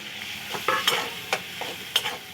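A ground poppy seed and mustard paste hits a hot pan and is stirred, with a low sizzle under several sharp scraping strokes of a spatula, fairly close and steady with no voices.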